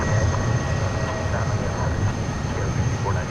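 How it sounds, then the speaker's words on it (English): An Airbus A300 taxiing out of the UPS area at DFW Airport gives a steady, loud engine rumble with a faint high whine, alongside a voice. "we got an A300 taxiing out of UPS Miniport"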